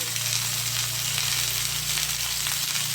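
Mixed vegetables with broccoli, pumpkin and sweet potato sizzling in a pan, a steady bright hiss of frying over a low constant hum, close and continuous with no talk.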